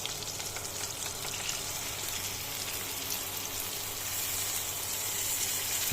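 Rice frying in a pan with chopped green chillies for basanti pulao, a Saraswati Puja offering, gives a steady, even sizzle that holds at moderate loudness throughout with no voices.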